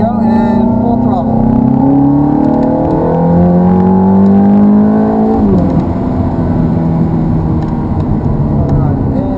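A Ferrari F430 sports car on the Hallett Motor Racing Circuit accelerates at full throttle, its engine note climbing steadily and loud, then dropping briefly with a gear change before rising again.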